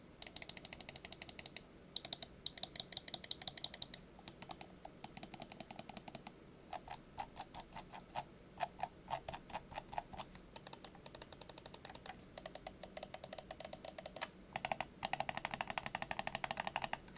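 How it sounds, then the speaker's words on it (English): Rapid, crisp plastic clicks from the left, right and middle buttons of a computer mouse, tapped in quick uneven runs with short breaks, close and dry, with no voices. "Moving on to the buttons, here is a listen to the clicks."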